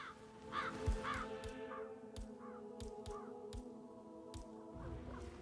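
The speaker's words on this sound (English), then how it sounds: "I'll never get rid of those stupid birds." Crows caw repeatedly in the Hitman 3 video game, a series of sharp nasal calls scattered over about five seconds against a steady low ambient bed, fairly faint and with no speech.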